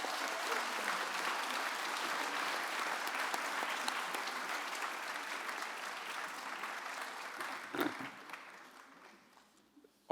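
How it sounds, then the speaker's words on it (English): An audience at the 2019 Sullivan Renaissance awards ceremony applauds the participating community projects with a sustained wash of many hands clapping, steady for several seconds before tapering off and fading to near silence. "So let's have a big round of applause for all of these participants."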